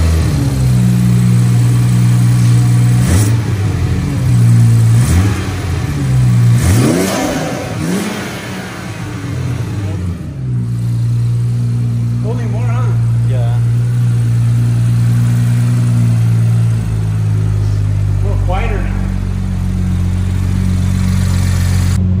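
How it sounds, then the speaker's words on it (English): A BMW F30 with a newly fitted air intake starts and settles to idle, then is revved several times, each rise and fall loud and close, with a steady idle hum between the blips and some talk over the engine. "we're gonna start the car right now. We're gonna see how it sounds."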